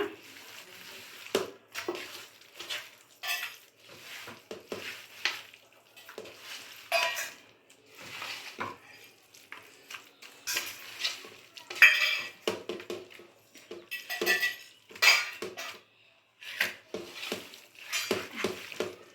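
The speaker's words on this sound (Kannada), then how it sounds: "ಚೆನ್ನಾಗಿ ಮಿಕ್ಸ್ ಮಾಡಿಬಿಡೋಣ" Kabab mixture being stirred and mixed by hand in a bowl, with a steady run of soft wet squelches and scrapes, occasional utensil clinks against the bowl, close and fairly quiet.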